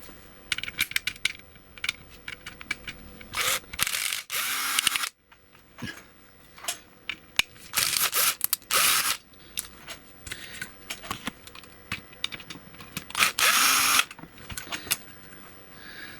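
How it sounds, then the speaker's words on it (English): Screws are worked out of a faulty Watson Power Mite NF power supply, giving close irregular clicks, scrapes and short bursts of tool noise with pauses in between, and no talking. "hopefully now we should just have to remove these screws and it'll come out"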